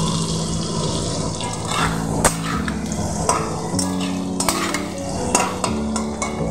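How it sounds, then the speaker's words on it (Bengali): Potatoes fry in oil in a pan while being stirred, a continuous close sizzle and scrape with occasional sharp clinks of the utensil, no voices over it. "খুব ভালো করে লাল লাল করে আমি ভেজে নেব।"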